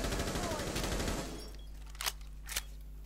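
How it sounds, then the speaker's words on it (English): Gunfire in Rainbow Six Siege: a rapid burst of shots up front that fades, then two sharp isolated cracks a moment later, fairly close. "I can hear people shooting."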